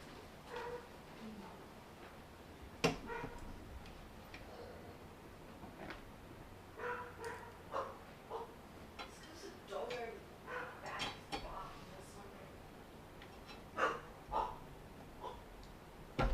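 A puppy yips, whimpers and gives a few short barks in scattered, fairly faint bursts in an indoor room, while someone speaks in a low voice.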